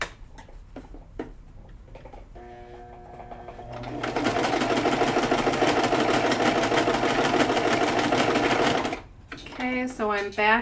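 A home sewing machine runs hard over elastic in a long, loud, steady whir of rapid stitching. Short bursts come first, then the continuous run, and it stops with faint movement afterward.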